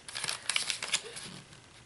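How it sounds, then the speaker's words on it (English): A sheet of printer paper being folded into an origami envelope, giving soft crinkling and creasing rustles in quick bursts, close and fairly quiet, with no talk over it. "you're going to take this corner and fold it"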